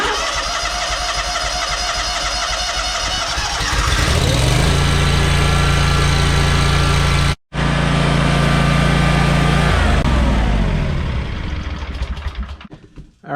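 Zero turn lawn mower engine running loud and close, its steady drone dropping into a lower, fuller idle partway through as it warms up, with one brief cut-out before the idle resumes and then fades.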